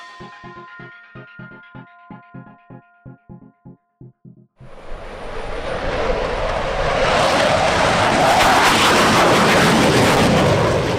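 Dassault Rafale fighter jet at an air show flying display, a roaring jet engine building from a distant rumble into a loud, sustained wide-band roar, preceded by a series of sharp rhythmic pulses.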